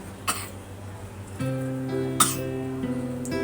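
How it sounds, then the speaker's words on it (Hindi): A cat coughing, a few short harsh bursts heard close, with a steady tonal hum under them and no talk. "बहुत खांसी हो रही है, इसे दवाई पिला दी है मैंने, पर वो खांसी जा नहीं रही है इसकी"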